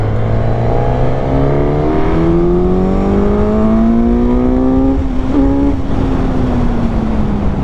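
A 2021 Suzuki GSX-S 1000 with a 152-horsepower four-cylinder engine revs and accelerates hard, its pitch climbing through gears with a brief shift dip; loud, continuous and close, with no talking.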